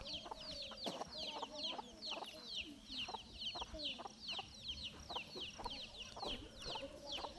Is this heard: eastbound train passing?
no